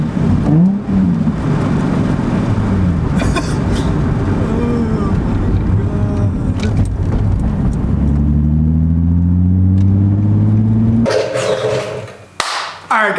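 A car accelerating hard through the gears after new outer tie rod ends were fitted, with worn tires that spin on shifts; loud, close engine roar climbs steadily, drops at shifts and rises again before cutting off.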